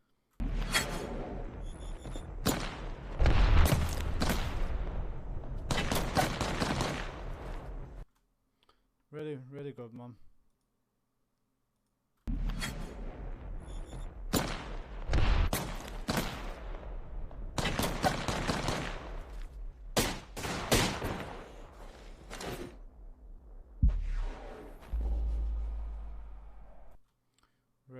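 Apex Legends gunfire heard as dense bursts of rapid automatic shots and clicks in two long volleys separated by a short gap. A voice speaks briefly in the gap.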